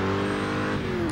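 A fast car from the Driver San Francisco video game revs hard, a steady loud engine tone with rising and falling pitch over a little more than a second, no voices.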